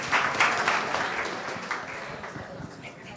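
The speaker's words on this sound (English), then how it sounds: "Big round of applause." Audience at a behavioral science summit in Madrid applauding, a burst of many hands clapping that starts strong and gradually thins out over a few seconds.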